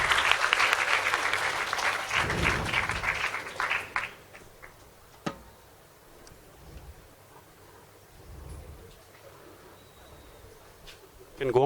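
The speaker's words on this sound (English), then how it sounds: "Round of applause for Shreya" Audience at a music and yoga day event applauding for a volunteer, a warm burst of clapping that thins out within about four seconds into a quiet room with occasional taps and low sounds.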